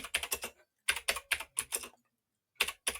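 Fingers type on a computer keyboard at close range in quick bursts of clattering keystrokes, separated by short pauses, with no talk.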